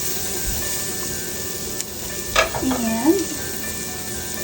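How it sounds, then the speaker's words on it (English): Flour browns in a hot pan for a sauce with a steady sizzling hiss, a couple of stirring scrapes and brief tonal squeaks, and a voice speaks briefly. "Let's put a little more flour in here. Let's brown more flour."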